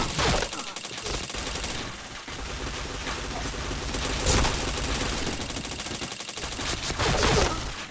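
Video game gunfire in a rainy multiplayer match, with dense, loud bursts of rapid automatic fire and overlapping shots sustained throughout.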